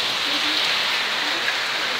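Steady rain falling in Paphos, Cyprus, a dense continuous hiss of drops hitting surfaces nearby, even in level throughout with no voices.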